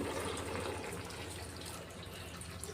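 Water is poured into a cooking pot holding chopped tomatoes and salt for pav bhaji. It makes a brief, steady, close splashing gush with no voices.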